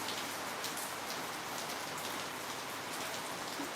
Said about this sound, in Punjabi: ਬਾਰਿਸ਼ ਵੀ ਵਾਧੂ ਆ ਰਹੀ ਹੈ